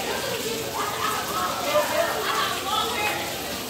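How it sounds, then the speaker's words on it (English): Heavy rain falls outside a school, a steady hissing patter of drops on surfaces heard throughout, with a voice talking over it. "look outside, it's raining so hard."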